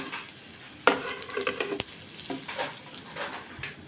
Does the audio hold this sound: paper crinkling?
no